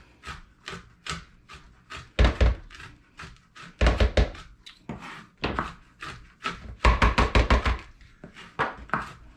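Food being chopped on a board for low-sugar cookies, a series of sharp knife thunks in irregular bursts, some rapid runs of quick chops, close and fairly loud with no talk.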